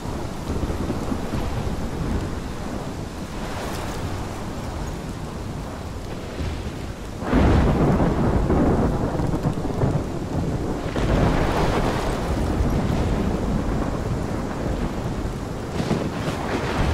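A thunderstorm with heavy rain in the video game Life Is Strange: steady loud rainfall throughout, with a deep rolling thunder surge partway through that swells the storm and lingers, and no talking.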